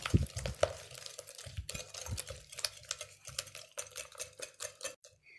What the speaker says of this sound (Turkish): İçerisine 1 su bardağı toz şeker ekliyorum. çırpıcıyla güzelce çırpıyorum.